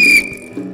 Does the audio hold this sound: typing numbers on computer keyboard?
no